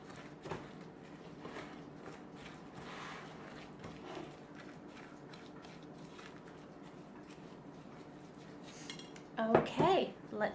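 Brownie batter of eggs, coconut oil, coconut sugar and vanilla is mixed in a bowl, a utensil clinking and scraping steadily at close range, with a brief burst of voices near the end.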